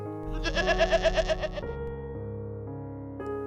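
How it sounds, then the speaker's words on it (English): A sheep bleats in a read-aloud children's story: a loud, wavering, pulsing bleat that stands alone, followed by quieter sustained tones. "The sheep said, bah."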